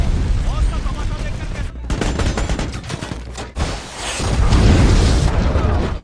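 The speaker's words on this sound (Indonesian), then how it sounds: "Setelah itu, sebuah RPG kembali ditembakkan." An RPG rocket launcher fires in a film battle scene: several sharp, booming blasts and crackling bursts arrive in quick succession, followed by a rushing, roaring swell, all loud and dense.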